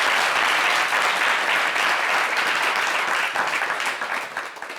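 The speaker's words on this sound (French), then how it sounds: "On va l'applaudir." An audience breaks into loud applause at a live show, a dense wash of clapping that holds strong and full for several seconds before gradually thinning out.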